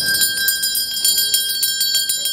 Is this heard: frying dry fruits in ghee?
no